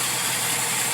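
A 1960 Ford Zephyr Mk2 engine running, giving a steady, loud, dense roar with no pauses, heard alone for a single second.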